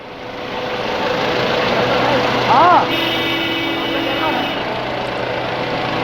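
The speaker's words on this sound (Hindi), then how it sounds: "किस तरीके से काफी देर तक हवा में लहराता रहा बीजेपी सांसद मनोज तिवारी का हेलीकॉप्टर" A BJP MP's helicopter hovers and sways in the air for a long time after losing contact with air traffic control during a Bihar election campaign, its steady rotor and engine roar loud and continuous with faint voices underneath.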